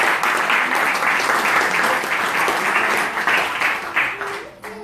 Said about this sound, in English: please let's give all of them a round of applause and welcome them to ISKCON Newcastle